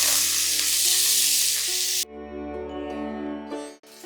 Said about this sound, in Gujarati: હવે લીલા લસણની જગ્યા ઉપર આપણે કોથમીના ડંઠલનો વઘાર લઈએ છીએ